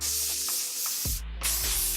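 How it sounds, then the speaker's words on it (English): Monat Refinish Control hairspray hisses from an aerosol can onto hair in loud, broad bursts, with a short pause in the middle before the spraying resumes. "I'm going to just finish it off with Refinish Control Hairspray by Monat."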